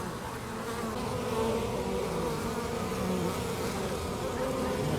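Honeybees swarm around their hive in a dense, steady buzz that fills the air close by, many insects droning at once without a break and no voices over them.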